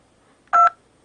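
A phone keypad gives a single short dual-tone dialing beep, clear and fairly loud against near silence.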